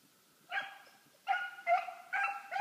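An eight-month-old hound pup bays on a rabbit's trail during a chase: four drawn-out, fairly close bawling barks in an uneven rhythm, with no talking.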